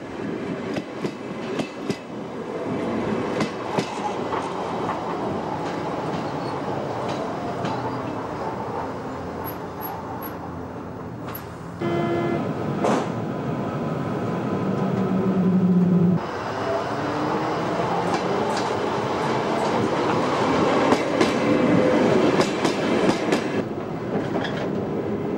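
Onboard a new Berlin S-Bahn class 480 electric train running between Tegel and Reinickendorf freight yard, with a continuous loud rumble, rhythmic wheel clatter over rail joints and shifting motor whine, steady throughout with no talk.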